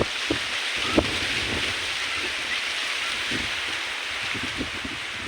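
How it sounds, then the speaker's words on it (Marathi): A strong wind and rain storm sweeps outdoors as a steady, fairly faint broadband roar, with scattered soft taps and gusts across the whole stretch and no voices. "वारा कावदान सांगितलं होतं पाऊस यायला लागला"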